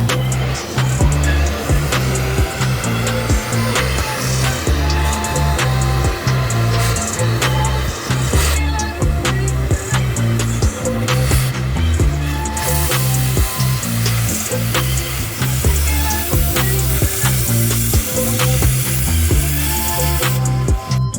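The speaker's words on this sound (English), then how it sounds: "I'm going to cut these brackets off and get ready for the 4-link brackets." Metal brackets being cut off a burnout car during its build, a loud, continuous rattling, ratchet-like mechanical grind with steady rapid pulses, close and alone throughout.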